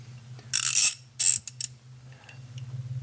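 A ratchet and socket tightening the upstream O2 sensor on a 2011 Ford Fiesta, two short bursts of close, crisp ratcheting clicks followed by a few single clicks over a low hum.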